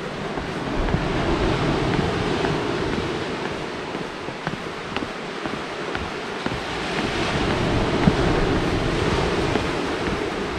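Ocean surf rolls in continuously at Mystic Beach on Vancouver Island, a steady loud wash of breaking waves with wind buffeting the microphone, sustained throughout with no voices.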